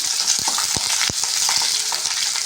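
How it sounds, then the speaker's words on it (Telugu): Onion, curry leaves and green chillies fry in hot oil in a pan with a constant close sizzle, broken by a few sharp scrapes and knocks of stirring. "వేగనిద్దాం"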